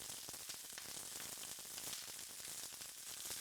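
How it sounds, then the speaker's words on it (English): Onions sizzle and fry steadily in a pan for sauteed kale salad, a dense continuous crackle with fine popping throughout, close and fairly faint, with no talking. "we're going to let these onions cook for just about a minute before we add the kale"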